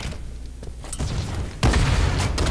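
Halo 5 rocket launcher fire bursts in two heavy booming blasts, the second louder and closer, set amid multiplayer gunfire in a Stronghold match.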